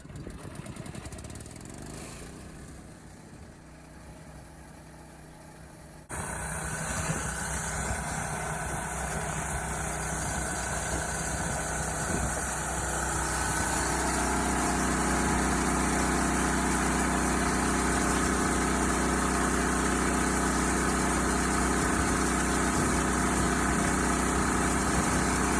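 A Knight 5.5 hp air compressor's engine runs steadily and loudly during a ten-minute run test, starting up after a few quieter seconds and holding a constant drone throughout with no talking.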